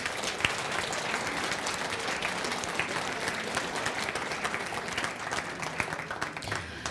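Conference audience giving a big round of applause, steady dense clapping throughout at moderate level with no voices over it.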